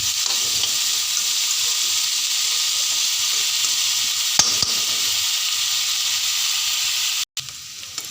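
Slit green chillies sizzle and fry in hot oil in a pan while being lightly stirred, a steady close crackle with a few clinks of the utensil and a brief break near the end.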